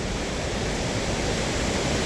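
Ice-cold snowmelt water rushes steadily along a high mountain pass, a dense, even broadband wash that fills the whole moment without pause or voices.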